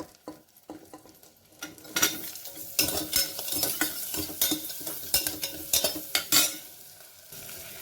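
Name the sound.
vegetables sautéing in a pan for soup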